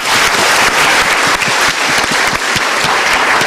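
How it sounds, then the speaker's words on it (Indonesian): An audience at a studio talk show claps steadily in a dense, close burst of applause that stays loud and even throughout, with no voices above it. "Kita berikan tepuk tangan dukungan dulu"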